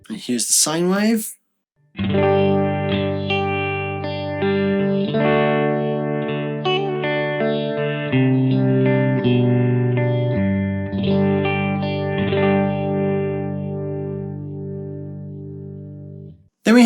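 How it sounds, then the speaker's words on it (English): Sine-wave modulated phaser pedal smoothly sweeping over held electric guitar chords, loud and close, after a short opening burst and pause, with the chords ringing out and fading slowly. "And here's the sine wave."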